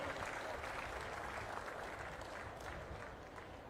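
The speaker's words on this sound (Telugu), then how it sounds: "గట్టిగా చప్పట్లు కొట్టి అభినందించండి." An audience at a public event where the Chief Minister distributed passbooks to farmers breaks into applause, a dense and continuous wash of many hands clapping that fades slightly toward the end.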